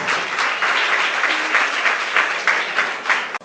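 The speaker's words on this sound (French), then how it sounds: "Applaudissez-la, vraiment." A crowd applauds steadily, a dense wash of clapping hands that holds at an even level throughout before ending abruptly.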